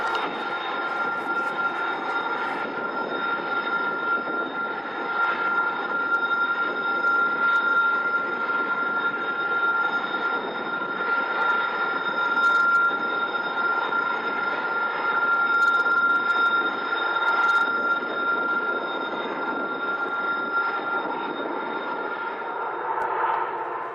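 A BNSF freight train led by EMD SD70MAC-family diesel locomotives rolls past on Colorado's Joint Line, giving a steady, loud, sustained rumble with a constant whine over it for the full span, with no voices.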